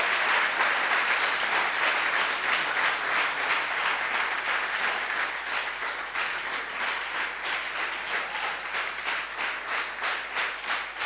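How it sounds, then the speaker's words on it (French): A church congregation in a Sunday service applauds in sustained, rhythmic unison clapping, with scattered cheers mixed in, filling the room steadily for the whole stretch. "Est-ce que quelqu'un peut acclamer pour le Seigneur?"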